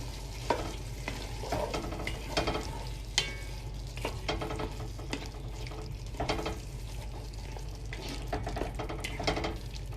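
Tomato, ginger, garlic, lime leaves, tomato puree and lemongrass are stirred in a pan for hot and sour red lentil soup, with a spoon scraping and knocking in irregular strokes over a steady low sizzle.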